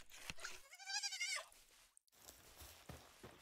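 Sheep in the game Palworld give a wavering, nasal bleat that rises and falls, followed by faint scattered clicks and soft background noise.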